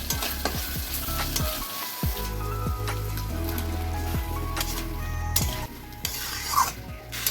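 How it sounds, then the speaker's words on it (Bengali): Elephant foot yam and potato pieces sauté with spices in oil, giving a strong continuous sizzle and frequent scraping stirs against the pan, heard up close. "এভাবে আমি খানিক্ষণ কষিয়ে নেবো"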